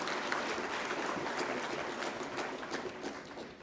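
An audience applauds at a national technical textiles conclave for a government chief guest, a sustained, fairly close patter of clapping that fades slightly toward the end.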